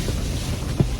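Strong wind gusts buffet an ice camping spot in a storm of 45 mph-plus gusts, a steady roaring rush of wind noise against the microphone with a brief heavier gust thump near the end.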